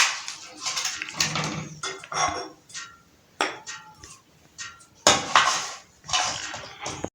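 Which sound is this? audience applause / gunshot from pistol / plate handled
plate handled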